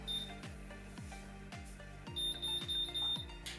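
Curling iron giving a string of short electronic beeps in an even rhythm, close and clear over faint background hum, with no talking.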